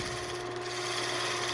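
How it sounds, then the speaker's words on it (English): Gouge roughing out wood on a turning lathe, a steady scraping, rasping hum from the spinning workpiece with the lathe motor tone underneath, faint and continuous with no talk. "Come in and just rough it out with the gouge."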